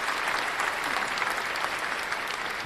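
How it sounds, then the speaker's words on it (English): A round of applause from a crowd during a live teaware unboxing session, steady dense clapping held throughout at moderate loudness with no voices over it. "a round of applause"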